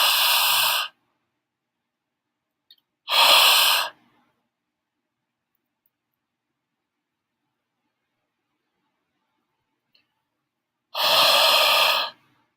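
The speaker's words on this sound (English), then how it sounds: "taking a tape that's charged and blowing your breath on half of the tape." Breath is blown onto a charged strip of tape in three long, loud, close exhalations, each about a second long and separated by silence.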